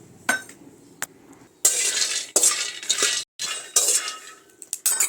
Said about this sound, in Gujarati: તો હવે આપણે સિંગદાણા શેકી લઈશું